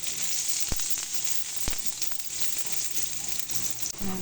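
Chopped garlic and ginger fry together in a pan, a loud continuous sizzle and hiss broken by a few sharp pops and stirring scrapes.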